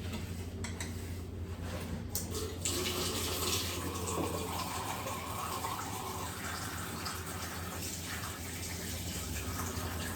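Hot water runs steadily from a tap fed by a Baxi combi boiler in a steady rushing stream, close and continuous for the whole stretch, with no one talking.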